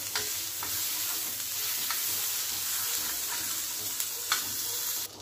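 Butter sizzles on a hot tawa griddle while a spoon spreads it, producing a steady close hiss with a few soft scraping taps, and no one speaks.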